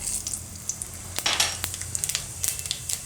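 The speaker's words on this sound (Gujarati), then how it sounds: "તો તેલ આપણું ગરમ થઈ ગયું છે, તો એમાં આપણે નાખીશું જીરું" Cumin seeds hit hot oil and sizzle up close, a dense hiss broken by sharp crackles and pops that keep spitting through the whole moment, with no talking.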